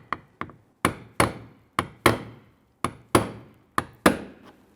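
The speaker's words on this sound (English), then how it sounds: "Now I'm going to use a small diameter punch for the center here." A small diameter punch struck with a hammer knocks out the centers of trim buttons on a 2011-2021 Jeep Grand Cherokee front bumper cover: a series of about ten sharp, close metallic taps, often in quick pairs.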